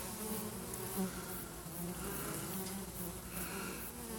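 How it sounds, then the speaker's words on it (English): Bees buzzing steadily and close by, a dense continuous hum of many insects with no other sounds. "Don't poke the bees."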